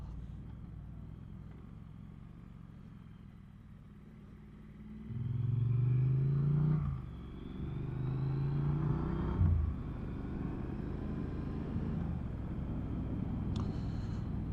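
A Triumph Street Twin Gold Line Limited Edition motorcycle rides along a road, its engine rumbling low, swelling louder as it accelerates mid-way, then settling into a steady cruising hum with passing wind noise.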